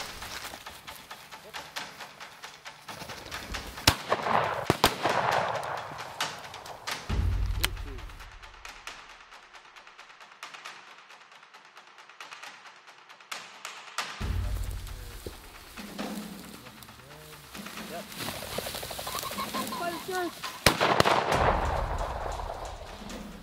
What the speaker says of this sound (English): Good shot, Clay.